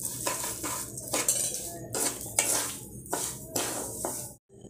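Semolina being roasted in hot ghee in a kadai: a spoon scrapes and clatters against the pan in short, uneven strokes over a soft sizzle, with a brief pause near the end.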